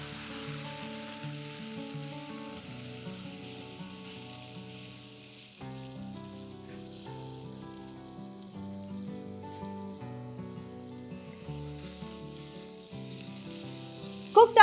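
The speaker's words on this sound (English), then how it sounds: "let's add in 1 onion finely chopped, 2 cloves of garlic finely chopped. Let's saute these ingredients till they are golden brown" Chopped onion and garlic sizzle steadily in hot oil, a soft continuous frying hiss under background music, with a brief louder clatter at the very end.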